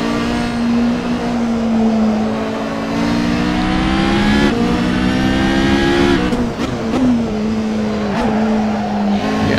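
A Toyota TS040 hybrid race car in a racing video game at Spa gives a loud, steady engine drone whose pitch climbs and drops through gear changes, with brief tire squeals near the end.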